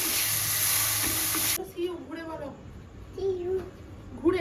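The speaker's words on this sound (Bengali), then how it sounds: "এখন আমার মশলা কষা চলছে" Spice masala for ghugni sautés in a pan with a loud, dense sizzle that cuts off abruptly, after which a voice talks and babbles over faint kitchen background.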